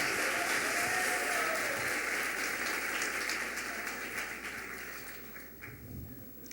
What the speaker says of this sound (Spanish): Aplauso al técnico.